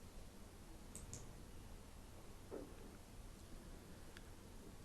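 Computer mouse clicks in a quiet room, two quick close clicks near the start followed by a fainter click later over a low steady background hum.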